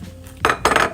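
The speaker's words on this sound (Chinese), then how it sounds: "面条煮熟了，我们现在把它捞起来" Cooked noodles for ham pasta are lifted out of a pot with a metal utensil: two quick, close scraping clinks against the pot's side, with no talking.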